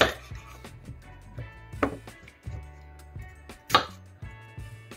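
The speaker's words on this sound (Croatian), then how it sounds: "Seckamo luk." Onions chopped with a knife on a board: repeated crisp knocks in an uneven rhythm, some louder strikes standing out, close and clear with no talking.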